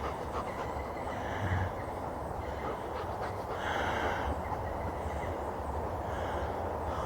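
A train rumbles past with a steady low roar and faint rhythmic clatter, swelling slightly at moments, no voices.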